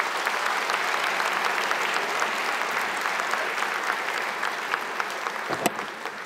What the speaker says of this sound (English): I'd just like a round of applause for the nominees in general.